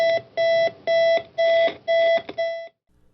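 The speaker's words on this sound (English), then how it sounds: "the digital alarm clock has faded into the background of modern life" A digital alarm clock rings in a series of six sharp, evenly spaced electronic beeps, loud and close, then cuts off into near silence.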